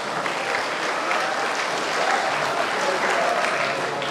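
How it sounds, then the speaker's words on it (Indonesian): An audience at a polytechnic seminar claps in sustained, dense applause, steady and fairly loud throughout with a faint murmur of voices beneath. "Beri tepuk tangan yang mulia Bapak Ibu sekalian"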